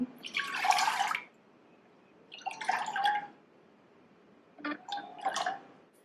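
Water is poured into a saucepan for spinach soup in three separate splashing pours, close and fairly quiet, each lasting about a second with pauses between and no talking.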